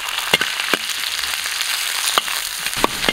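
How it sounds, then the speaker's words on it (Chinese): Soaked spices and peppercorns frying in hot oil in a wok give a continuous loud crackling sizzle, broken by a few sharp pops and clinks. "锅里倒点油，油后下入泡好的调料。 来一点麻辣粒儿"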